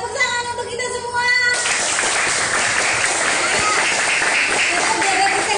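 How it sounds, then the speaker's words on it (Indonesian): Children in a classroom clap their hands in a burst of dense, steady applause that starts abruptly after a teacher's voice and continues loudly to the end. "tepuk tangan untuk kita semua"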